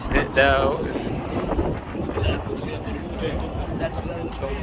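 Gusty outdoor wind buffets the microphone as a steady broadband rumble on a walk through Lisbon in mild weather, with a brief voice near the start.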